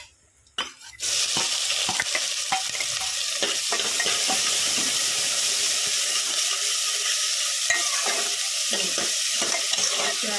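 Onions and cumin frying in hot oil in a pan, a loud continuous sizzle starting after a brief quiet moment, with repeated utensil scrapes and stirring clicks over it.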